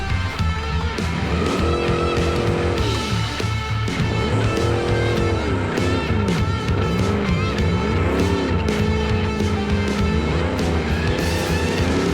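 Car tires spinning and squealing in BeamNG.drive under a loud, steady engine roar, the pitch rising and falling in repeated sweeps as the wheels lose grip, close and continuous throughout.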